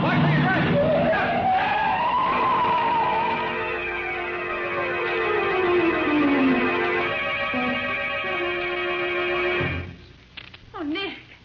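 A car skidding as a sound effect in a 1940s old-time radio mystery drama, a long loud tire screech rising and falling for about nine seconds before cutting off, followed by voices.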